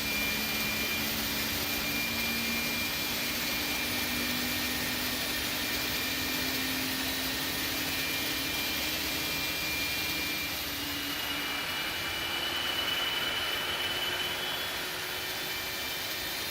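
Jet engines of an Airbus A300-600 in the X-Plane 12 flight simulator whine and roar steadily as they spool up, a loud broadband rush with a slowly rising tone and no talking.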